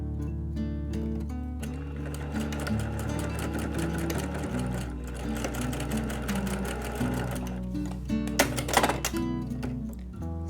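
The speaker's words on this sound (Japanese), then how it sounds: "この端からですね8ミリぐらいのところねミシンで走ってください" Sewing machine stitching about 8 mm from the folded edge of a knit collar on a remade Uniqlo autumn sweater, a loud, steady whirring run that fills the clip with fast repetitive needle clatter and brief changes in pace near the end.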